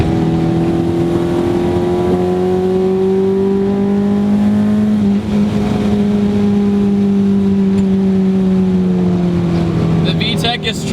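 Honda Civic Si EM1 engine revving hard through the gears into VTEC, a loud sustained rising and falling engine note heard from inside the car throughout, with a voice talking over it.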